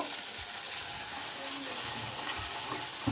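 Tomato and cashew paste sizzles quietly in a kadai while being stirred. There is a soft continuous fry hiss and occasional light scraping strokes, heard at low level with no talk.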